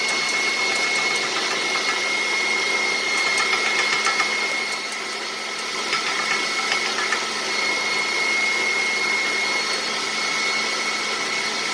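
An electric mixer whips egg whites with sugar for a lemon pie meringue, giving a loud, steady motorized whir that runs continuously with no talking over it.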